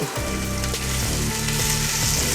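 Crushed ginger and garlic hit hot oil in a pan for chicken mapas, a loud, close, continuous sizzle with a spoon stirring through it and no talking.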